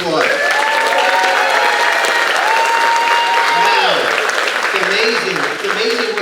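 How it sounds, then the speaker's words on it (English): Audience applause at a school spring concert, dense clapping from a crowd that stays loud and close throughout while a voice briefly speaks over it. "Let's give them a nice round of applause."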